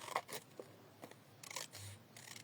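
Scissors cutting paper for a relief map, a few quiet, close snips spread irregularly over a couple of seconds, with no talking.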